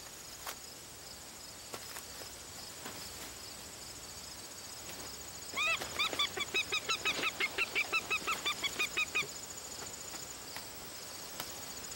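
A bird cackles in a quick burst of repeated sharp calls midway through, standing out over a steady background of insect chirring outdoors in the wild.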